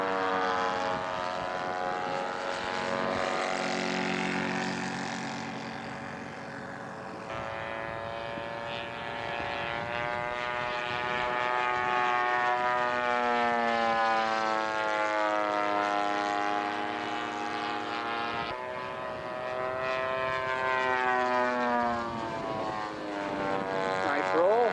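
A scale model propeller aircraft takes off and flies, its engine droning steadily and loudly with pitch that rises and bends as it climbs and passes, continuous throughout.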